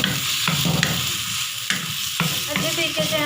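Boiled potatoes are stirred into softened tomatoes in a hot pan, steady sizzling frying with a few scraping stirs of a spoon across the pan, close and alone with no talk.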